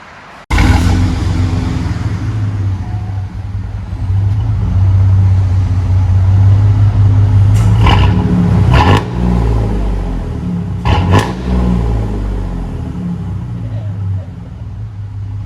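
A GMC Sierra with a 4.3L V6 and a Flowmaster Super 10 exhaust idles with a loud, deep rumble, then blips the throttle in several short revs. People speak faintly under the engine.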